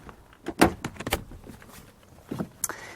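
A 2013 Mercedes-Benz GL-Class SUV door opens wide with a few close mechanical clicks and thuds, followed by a short latch sound near the end.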